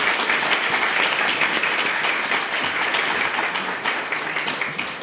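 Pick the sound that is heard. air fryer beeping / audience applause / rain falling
audience applause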